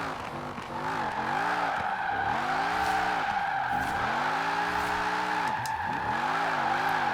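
A 1,000-horsepower Camaro IROC-Z tuned for top speed slides in Forza Horizon 4, tires squealing in long wavering skids over a loud, rising and falling engine note, close and sustained.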